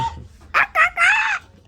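A children's speech-learning toy plays an electronic hen clucking in three short bursts, then a longer tone, fairly close, with faint background noise.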